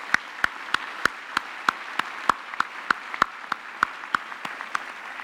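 At a university graduation ceremony, a hand is given for support staff, heard as a single slow, evenly spaced series of about twenty crisp claps against a quiet hall.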